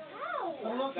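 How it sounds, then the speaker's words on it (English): A cat meows with a rising then falling tone, followed by a second drawn-out meow, close and fairly loud, filling about a second. "I believe there's a cat in there."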